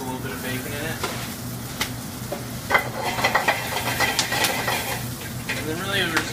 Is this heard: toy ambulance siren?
no